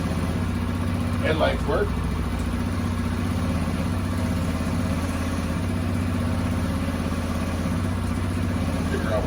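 A 2015 Tao Motors Snow Leopard 200 snowmobile engine idling steadily and loudly up close with a constant droning hum, while a person speaks briefly over it.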